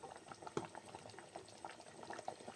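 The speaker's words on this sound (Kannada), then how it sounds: "ಈಗ ಕುದೀತಾ ಇದೆ. ಇದು ಫುಲ್ ಕುದಿಬೇಕು." A pot of ripe mango palya bubbling steadily on the stove, with soft continuous simmering pops and gurgles close by, no talking.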